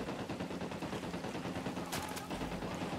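Rapid bursts of automatic gunfire crackle through a firefight in Ghost Recon Wildlands, steady and dense throughout with brief sharper cracks near the end.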